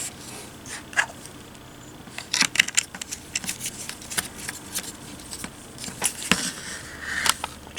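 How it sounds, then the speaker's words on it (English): A GoPro camera clicks onto an Ulanzi GP-4 magnetic quick release mount. A few small, sharp plastic clicks come amid quiet handling rustles, close up in a hushed room. "I'm going to connect my GoPro."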